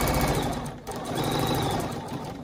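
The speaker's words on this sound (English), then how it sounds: "I'm gonna stitch in the ditch to get to do this one too." A sewing machine runs steadily while quilting by stitching in the ditch, giving a close, continuous mechanical whir with a brief dip partway through and no speech.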